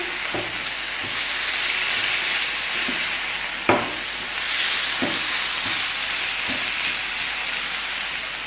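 Prepared chicken in a garlic butter pan sizzles steadily while being mixed, with scattered scraping knocks of a spatula and one sharper clank midway, close and continuous, no talk.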